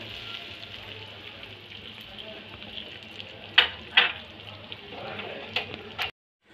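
Mustard seeds, chillies and curry leaves in hot oil are tipped into idli sambar, giving a soft crackling sizzle with a few sharp pops and clinks near the end, fairly quiet throughout.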